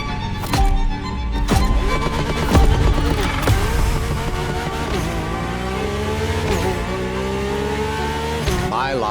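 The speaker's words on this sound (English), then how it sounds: "Audi R8 LMS GT2, a car that was first introduced at Goodwood's Festival of Speed" An Audi R8 LMS GT2 race car engine in The Crew Motorfest, revving and shifting with rising and falling pitch, loud and close, with a voice talking over it.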